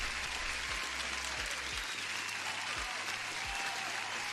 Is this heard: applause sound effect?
yes